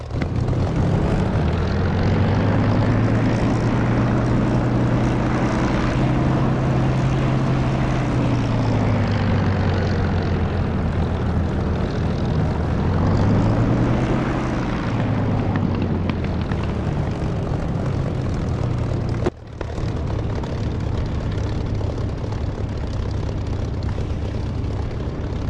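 Aircraft engine roaring during a takeoff roll in the DCS flight simulator game, a loud continuous drone with rising and falling pitch and a brief dip near the end, with no talk.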